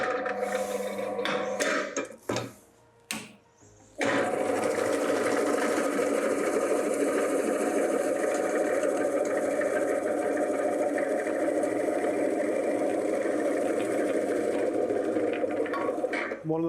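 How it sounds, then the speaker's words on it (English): A Robot Coupe CL50 food processor cutting vegetables for coleslaw. After a few seconds of brief knocks and handling, the motor starts and whirs steadily and loudly, close up, with a slight change in pitch near the end. "So we're going to make a really quick 60-second Robot Coupe coleslaw."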